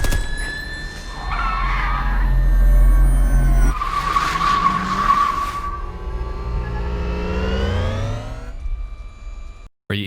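A film car chase scene fills with loud tire squeals and skidding over rumbling engines, followed by a sweeping vehicle pass and a fading rising whine, cutting off abruptly near the end.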